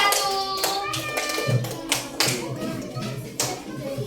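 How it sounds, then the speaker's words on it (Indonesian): A class of first-grade children claps for a group in a classroom, a scattered patter of hand claps with a few sharper taps standing out, mixed with faint children's voices. "Tepuk tangan untuk kelompok 5"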